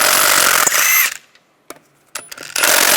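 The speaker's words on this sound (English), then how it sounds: "take the lug bolts out" A power tool with a 17mm socket spins lug bolts off the front wheel of a 2006-2009 Volkswagen Rabbit, two loud close whirring bursts separated by a quiet gap with small clicks.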